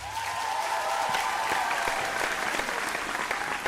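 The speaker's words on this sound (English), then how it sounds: "Round of applause, ladies and gentlemen" Steady, dense applause from a studio audience at a televised singing competition, loud and sustained throughout with crowd noise and a faint tonal hum underneath.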